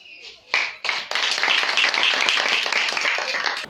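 Students clapping in unison at a girls' high school boarding house: a few sharp separate claps, then a dense, sustained burst of group clapping.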